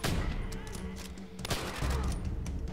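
Rapid gunfire in Call of Duty: World at War, a dense fusillade of overlapping shots and impacts in quick bursts, loud and continuous across the short span.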